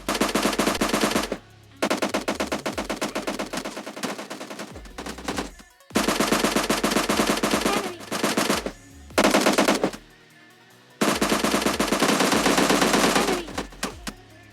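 Rapid automatic AKM rifle fire in a battle-royale style video game, loud and close, in several sustained bursts separated by short pauses.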